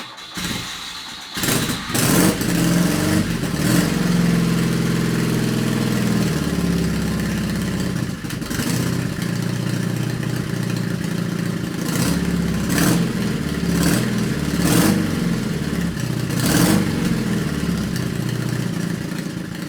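A nearby custom BMW R80 motorcycle engine idles with a steady rumble, briefly revving up several times at regular intervals.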